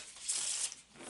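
Illustrated cards are shuffled on a tabletop in a soft, faint riffle. The brushing, papery rustle swells briefly in the middle and then fades.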